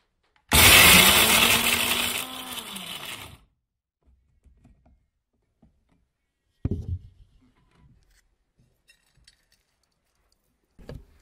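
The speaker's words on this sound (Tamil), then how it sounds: "இது நம்ம இப்போ செஞ்சு காட்டணுங்கிறதுக்காக மிக்சியில் அரைச்சி காட்டுறோம்." A mixer grinder grinds herbal tooth powder in a loud, harsh whirring burst of about three seconds, then stops, leaving faint clicks and small knocks in near silence.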